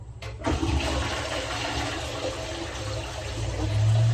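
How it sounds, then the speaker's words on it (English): A close-coupled toilet cistern flushes with a loud, continuous rush and gurgle of water, starting with a short clunk and lasting several seconds, heard close up with no talking. "second job is to flush the whole toilet"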